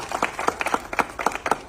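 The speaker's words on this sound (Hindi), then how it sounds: "तो ताली बिल्कुल जोरदार से" A small audience claps in quick, uneven bursts, individual hand claps distinct and fairly close, without a full roar, with no voices.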